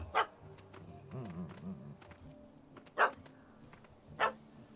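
A dog in The Witcher 3: Hearts of Stone barks in three sharp, isolated yaps spread over a few seconds, with quiet ambient game sound filling the gaps.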